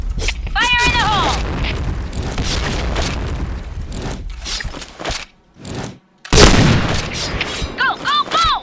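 A grenade explosion in the PointBlank shooter game lands as a heavy boom after a brief silence, amid loud continuous battle noise and chirping effects, with voices talking during the action.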